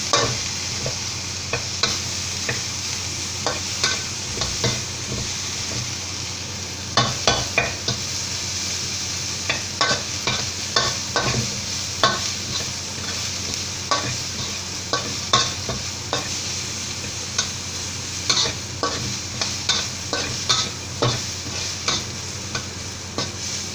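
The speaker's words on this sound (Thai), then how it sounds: "เรามาผัดกระเทียมกับกุ้งแห้งดีครับ" Garlic and dried shrimp stir-fried in a pan for a lotus-stem dish, a constant close sizzle punctuated by repeated sharp spatula scrapes and knocks against the pan at an uneven, busy rhythm, with no talking.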